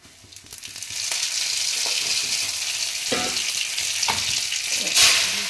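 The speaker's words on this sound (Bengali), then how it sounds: "কড়াইতে তেল দিয়ে দিয়েছি, এবার দেবো শুকনো লঙ্কা" Dry red chillies and poppy seeds drop into hot oil in a pan and fry with a loud, steady sizzle, broken by a few stirring scrapes and clinks, no talk.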